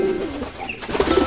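A pigeon coos in an animated children's story, soft repeated throaty calls close by with no talking over them.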